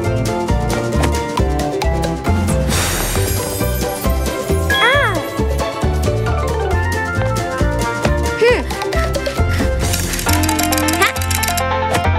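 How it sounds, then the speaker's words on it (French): Bright bells jingle repeatedly over busy music, with high tinkling bursts near the start and again toward the end. "Les cloches!"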